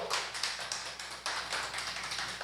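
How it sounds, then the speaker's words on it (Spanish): Church congregation applauding during a Spanish-language service, a dense, even roll of many hands clapping throughout, rising and falling in gentle pulses. "Denle un aplauso a Jesús el Señor"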